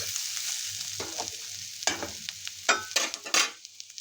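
Mushrooms sautéing in a pan over low heat make a gentle sizzle, broken by several louder stirring scrapes toward the end, close and clear with no talk.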